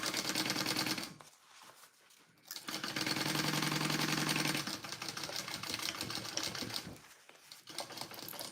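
A sewing machine stitches a Karvi mini backpack in fast rattling runs, stopping briefly twice before starting again, close and fairly quiet.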